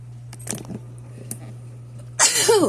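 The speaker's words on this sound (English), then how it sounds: "I'm sneezing because I put pepper in everything." A sneeze set off by pepper while cooking a three-cheese meat lasagna: soft breathy intakes, then a sharp, loud burst near the end.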